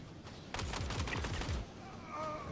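A quick rattling burst of automatic gunfire in a video game, about a second long, moderately loud over quiet ambient game noise.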